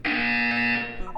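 A Portal 2 in-game buzzer sounds as one loud, sustained electronic tone lasting about a second, then cuts off sharply.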